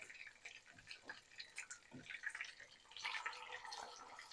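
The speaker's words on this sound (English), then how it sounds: "we can hear that nice bubbling sound" Hot oil bubbling in a pan as food fries in batches for an easy summer recipe: faint, soft, irregular crackles and bubbling pops, low in level throughout.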